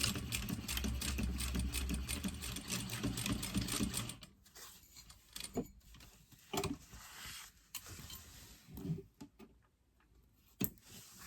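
Sewing machine running steadily and loud while stitching the side seam of a fabric tote, then stopping and starting in short bursts for back-stitching at the seam's end, with soft handling clatter between.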